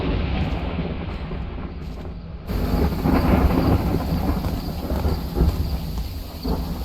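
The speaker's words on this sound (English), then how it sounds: "Very loud thunder." Loud, sustained thunder rumbling in the horror video game Phasmophobia, swelling into a heavy roll with rain-like hiss that persists to the end, no talk over it.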